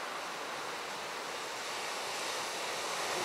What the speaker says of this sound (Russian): Следующая большая волна,